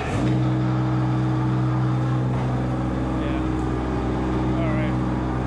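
A silo unloader auger runs steadily, a loud continuous mechanical hum with strong low tones and an engine-like drone throughout, with faint voices beneath.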